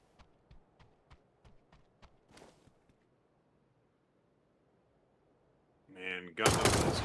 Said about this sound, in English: Got pop shots going on here against Papa Pumpkin.